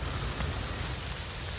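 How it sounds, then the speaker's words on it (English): Heavy rain mixed with small hail pours down during a severe storm, a dense and constant roar of drops striking surfaces, loud and even throughout, with no voices. "We do have small hail coming down with the heavy rain."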